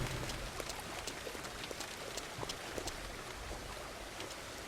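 Steady rain falling and pattering on surfaces in the video game Farmer's Dynasty, a continuous dense hiss with scattered droplet ticks, no voices.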